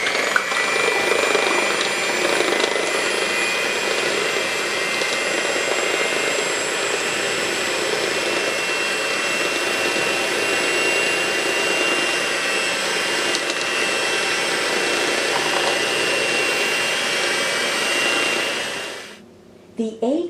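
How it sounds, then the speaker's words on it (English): A hand mixer runs at medium speed, beating egg whites to foam in a large mixing bowl for a Spanish cake roll. A steady, even whir holds for about nineteen seconds, then cuts off. "With a hand mixer, beat the egg whites at medium speed until a foamy texture"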